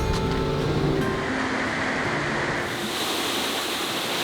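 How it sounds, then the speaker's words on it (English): Waterfall along the Road to Hana on Maui, a loud, constant roar of falling water filling the scene without pause. "This is the same waterfall that we started our trip at the other day"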